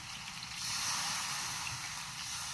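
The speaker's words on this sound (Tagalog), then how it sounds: "maglalagay tayo ng coke" Cola poured into a pan of chicken feet humba, a steady low hiss and fizz that swells after a brief quieter start and holds evenly, fairly soft and with no talk.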